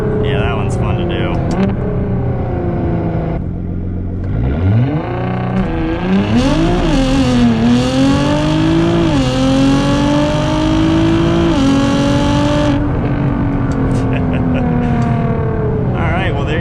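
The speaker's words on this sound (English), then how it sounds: "Alright, here's rolling launch." A 700 HP Nissan GT-R accelerates hard from a rolling launch, heard from inside the cabin: loud engine revs climb through several gear changes with speech over it.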